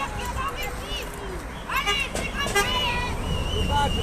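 Car horns toot in support of yellow-vest protesters in France, short honks rising out of street noise and crowd chatter, with people talking nearby.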